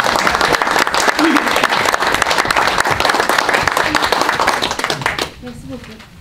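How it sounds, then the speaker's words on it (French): Applause from the audience at a regional county council meeting in Portneuf, a steady dense clapping that carries for about five seconds and then stops, leaving a quiet room with faint murmuring. "je pense que ça vaut vraiment une main d'applaudissement"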